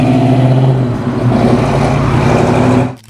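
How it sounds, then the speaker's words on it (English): Loud, close V8 rumble from a 1970 Dodge Challenger R/T with the 426 Hemi engine, a deep steady throaty drone held for a few seconds before cutting off abruptly. "The 1970 Dodge Challenger RT Hemi arrived with the legendary 426 Hemi V8"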